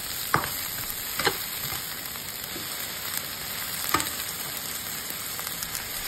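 Potato slices stir-fried in a wok for dry-pot potatoes, a steady hiss of frying broken by a few sharp scraping clacks of the spatula, close and fairly loud with no talking.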